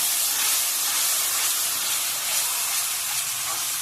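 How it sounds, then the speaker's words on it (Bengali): Spice paste for a river crab curry sizzling as it is stirred and fried in oil in a pan, a steady, close, broad hiss that stays even throughout with no voices. "এবার আমি মশলা করেছি এই মশলাটা ঢেলে দেবো। এবার ভালোভাবে কষাতে হবে জিনিসটা।"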